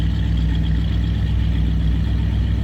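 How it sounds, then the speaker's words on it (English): A 1958 Pontiac Bonneville hardtop's 389 tri-power V8 idles steadily through its exhaust, with a deep, even, rumbling pulse held close and constant with no talk. "Get a good idea how the exhaust sounds."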